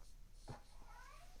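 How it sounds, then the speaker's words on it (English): A cat meows behind a closed door indoors. One or two brief meows come through faint and muffled over a quiet room hum. "meowing away because I have the door closed"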